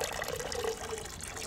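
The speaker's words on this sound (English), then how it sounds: "Let's pour our dressing." Salad dressing poured from a bottle makes a steady, close liquid trickle and gurgle that runs continuously for a second or so, with no talk.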